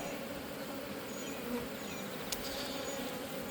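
A dense swarm of honey bees being transferred into a hive produces a loud, unbroken buzzing drone close by, with no voices.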